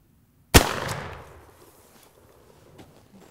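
A single loud shotgun blast from a benchrest, firing a number four turkey load at a target 60 yards away outdoors, a sharp report followed by a long fading tail and faint rustling afterward.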